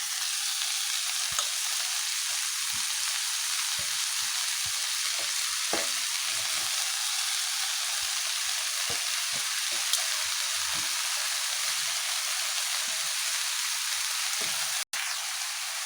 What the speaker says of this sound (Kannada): ಈ ಸೊಪ್ಪು ಸ್ವಲ್ಪ ಎಣ್ಣೆಲೇ ಫ್ರೈ ಆಗಬೇಕು